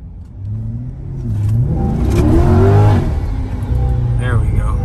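A Corvette C8 engine turns over and revs, a broad rising roar that swells and holds loud and close, with a voice nearby before it catches.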